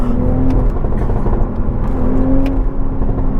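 Car engine revving hard with exhaust pops and crackles, a loud, steady roar with rapid sharp bursts like gunfire, close and continuous throughout.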